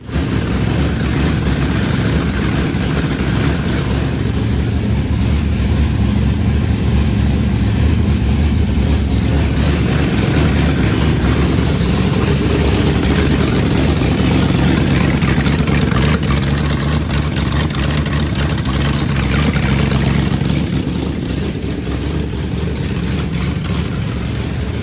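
A Mazda MX-5 fitted with a V8 engine runs loud and steady at close range, a dense rumbling drone that holds nearly unchanged throughout before easing slightly near the end.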